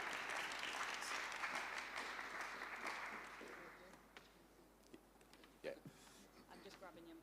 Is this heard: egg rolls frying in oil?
no